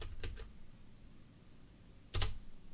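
A command is typed on a computer keyboard in a couple of short, quiet bursts of close clicking keys separated by a pause, with no talk.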